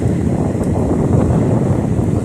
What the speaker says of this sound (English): we got a gust of wind coming through here